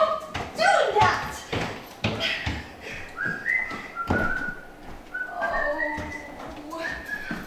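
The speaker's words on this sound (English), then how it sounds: "Oh, and do stop whistling." Someone whistles a wandering tune in short phrases, close by, with other voices and movement around it.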